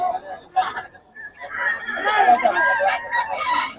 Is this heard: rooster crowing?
yes